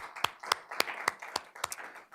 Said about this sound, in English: So a big round of applause for Mountain Vista Cross Country.